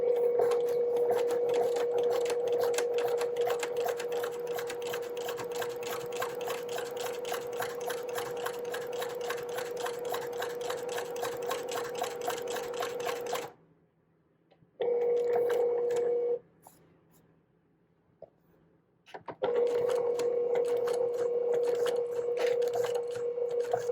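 Sewing machine stitching a quilt block seam, a loud steady whirring drone that stops briefly, restarts for a short run, pauses, then resumes, close by with no talking.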